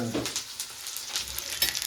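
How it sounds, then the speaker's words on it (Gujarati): Spices for a Gujarati tempering sizzle and crackle steadily in hot oil, a continuous frying hiss with small pops, close and fairly loud, without speech. "વઘાર બની ગયો છે."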